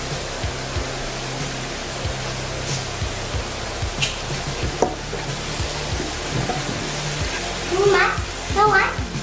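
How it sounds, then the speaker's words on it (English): A pork chop browns in a pan with a continuous soft sizzle and crackle, joined by occasional stirring clicks and a voice chattering faintly in the background. "Just gonna let this brown up nicely."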